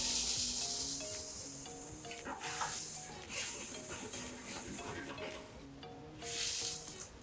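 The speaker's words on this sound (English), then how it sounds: "So you have your garlic and shallots sauteed. We're gonna add a slight white wine to that." White wine splashed into a pan of sauteed garlic and shallots sets off a steady sizzle and hiss, swelling in bursts as the liquid hits the hot pan, with quiet background talk underneath.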